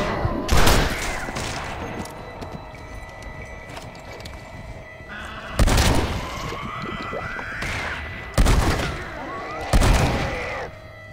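Shotgun blasts in the Red Dead Redemption Undead Nightmare game ring out in close corridors: several loud, booming shots spaced a few seconds apart over a low background hum, with brief echoing tails after each one.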